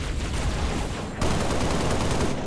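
Sustained, loud automatic gunfire from the Halo: Reach game during a legendary co-op mission, a dense unbroken clatter of shots that grows briefly heavier partway through, with no talk over it.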